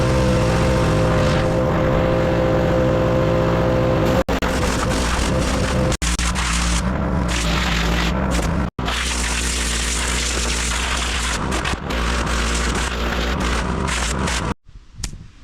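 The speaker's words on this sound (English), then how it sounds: "let me grab some degreaser and let me get the pressure washing" A pressure washer runs with degreaser on greasy car parts during an LS swap project, its engine droning loud and continuous for nearly the whole stretch before cutting out at the end.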